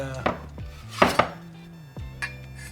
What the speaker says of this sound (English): So we got our sugar cane chopped up.